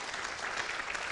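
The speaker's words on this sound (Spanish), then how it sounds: "vamos a aplaudir para recibir la palabra" An audience applauding together during a church sermon program, a steady wash of clapping from many hands with no voices over it across a short burst.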